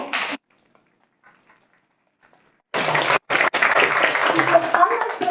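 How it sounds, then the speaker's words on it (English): Applause at a school speech contest for fourth graders, starting after a brief silence and then running as a loud, dense wash of clapping with some voices mixed in. "So I would like you to give a really big applause for Ms. Castro."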